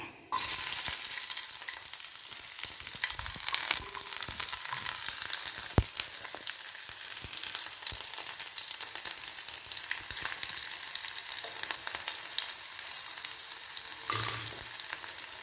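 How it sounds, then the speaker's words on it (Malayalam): Shallots fry in hot oil with popped mustard and fenugreek seeds for a coconut mackerel curry, a steady close sizzle running throughout with occasional small crackles. "ഇനി നമുക്ക് കൊച്ചുള്ളി ഇട്ട് കൊടുക്കാം"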